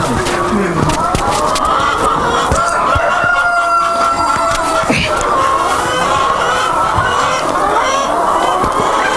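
Chickens fill a henhouse on a natural farm with loud, continuous clucking and repeated rooster crowing, close and busy throughout, with faint human voices mixed in.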